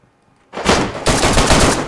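Loud gunfire erupts in the DayZ video game after a brief silence: two rapid bursts of close, sharp shots.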